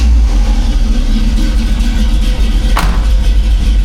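A cammed Chevy C10 squarebody engine on a Holley carburetor idles with a loud, steady, lumpy low rumble, close up and without talk, with one brief click near the end.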